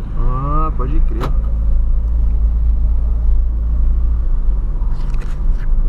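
A 2005 Toyota Corolla 1.8 with automatic transmission accelerates, a loud, steady low engine and road rumble from inside the car, with someone talking briefly at the start.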